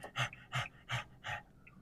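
A person imitates a small dog panting with four quick, rhythmic breathy huffs, close and fairly quiet.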